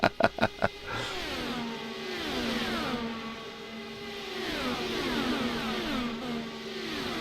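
IndyCar DW12 open-wheel race cars in the iRacing sim at Michigan, with a few sharp clicks at first, then several high-pitched engines whining and shifting through gears in overlapping sweeps as cars pass close by.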